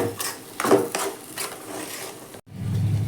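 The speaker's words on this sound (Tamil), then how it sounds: "இப்போது இந்த ஆயிலில் இதை நல்லா மிக்ஸ் பண்ணிக்கலாம்." Okra being stirred in oil in a pan, a few soft scraping and rubbing strokes of a utensil against the pan, close and moderately loud, ending in a brief cut and a low sizzle.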